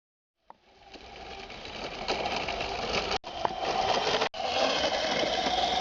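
An electric scooter running in a garden, a steady whirring motor hum that starts abruptly and holds at an even level, briefly cutting out twice.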